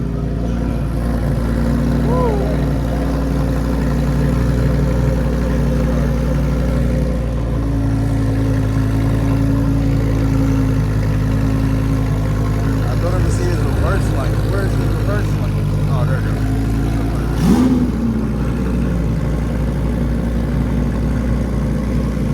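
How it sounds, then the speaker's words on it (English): Loud race car engine idling with a steady low rumble at a car show, holding a constant drone with occasional popping, while people talk nearby throughout. "And then you got another race car thing popping away. That thing is loud."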